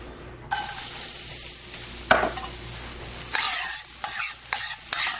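Chopped white onion sautéing in a pan, a steady sizzle with sharp scrapes and clatters of a utensil stirring, growing busier toward the end.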